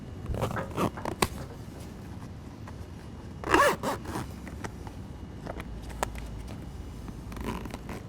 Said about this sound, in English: Once you've got your window zipped in,